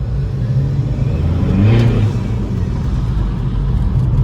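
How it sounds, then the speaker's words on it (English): A car fitted with a RamAir induction kit drawing air hard while the engine revs, a rumbling idle swelling into a brief whooshing intake surge and then settling back, heard up close. "So like hear it sucking in the air."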